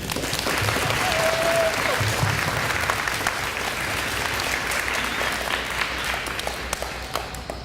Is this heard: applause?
yes